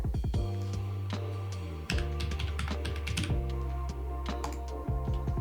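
Typing on a computer keyboard, a run of quick, close key clicks in uneven bursts over a sustained tonal background.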